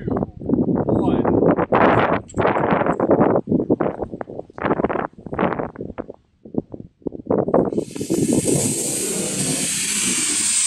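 A model rocket launches on a windy, rainy day, its motor roaring into a loud, steady hissing rush that follows a stretch of people talking over wind noise.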